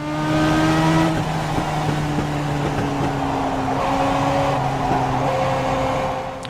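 Legends race car engine in the iRacing sim, a steady loud harmonic drone that holds on and off the throttle throughout, with slight pitch shifts as the car works through the race and no voices.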